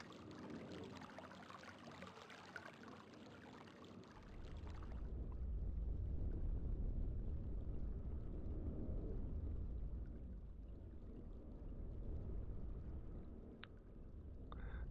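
Steady rushing of flowing water in the video game realMyst, a dense broadband wash that swells louder after a few seconds and holds continuously to the end, with a faint tonal blip near the close.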